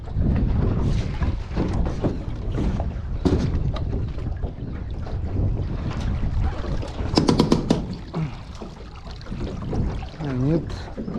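An outboard motor drives a small fishing boat on open water in gusty wind, a steady engine drone under wind buffeting the microphone, while people talk over it.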